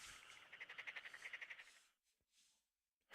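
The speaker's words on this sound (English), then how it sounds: "I always forget how, like, loud the frogs are in this game." Frogs in the Persona 4 video game croak in a fast pulsing trill for about two seconds, fairly close, then fall quiet with only a few faint calls afterward.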